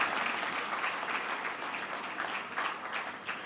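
Steady applause from an event audience at a Lagos State public service gathering, dense and sustained clapping with no voices standing out.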